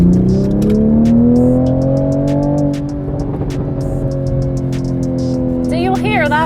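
Close, loud exhaust rumble from a 2020 Toyota GR Supra. The engine tone drops as revs fall, followed by crackles and pops toward the end, with a person talking over it.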